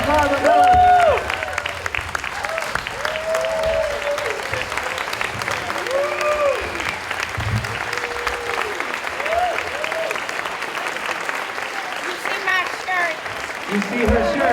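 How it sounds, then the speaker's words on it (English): An audience claps continuously and enthusiastically, with scattered whoops and cheers rising above the applause and voices mixed in throughout. "Everyone give a giant round of applause for Miss Sugar Sullivan and Miss Barbara Bil"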